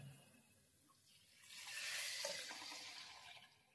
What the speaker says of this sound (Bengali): মশলাগুলো কষানো হয়ে গেলে এর মধ্যে দিয়ে দিচ্ছি আমি একটু গরম করে রাখা জল।